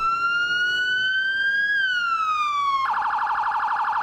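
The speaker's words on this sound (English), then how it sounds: "It's really bad kind of siren." An FDNY emergency vehicle siren in the New York game EmergeNYC, loud and close, sweeps slowly up and down in a wail, then switches to a rapid pulsing yelp.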